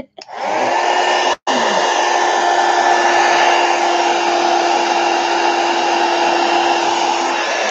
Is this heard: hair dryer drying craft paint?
yes